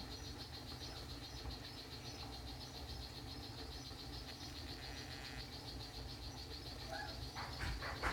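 A blue poison dart frog (Dendrobates tinctorius azureus) gives a steady, rapid buzzing trill that runs through the whole stretch, moderately faint over a low background hum, with a few brief clicks near the end.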